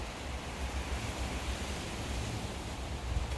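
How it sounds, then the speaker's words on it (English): Steady wind rushes and roars without pause, a broad, constant noise with low buffeting, close to the listener and free of speech. "Yep, windy, windy, windy."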